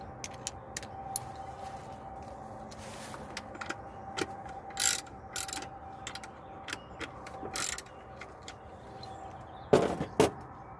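A ratchet fitted with a 10 mm socket clicks in short, quiet bursts while undoing bolts during an intake manifold installation, with pauses between runs and a louder pair of bursts near the end.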